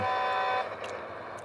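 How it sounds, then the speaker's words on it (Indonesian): A car horn in the Roblox video game sounds with a steady, buzzy tone that drops slightly partway through, with faint beeps over the top at moderate level. "Klaksonnya keren weh."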